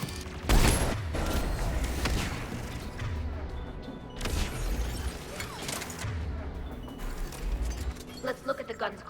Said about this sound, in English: Geth anti-aircraft guns are up ahead